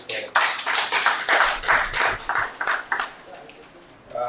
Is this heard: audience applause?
yes